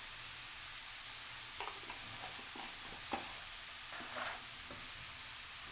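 Spices such as cumin powder and white pepper being stirred into food cooking in a pan: a faint, even background sizzle with soft, scattered scraping knocks of a spoon, no voices.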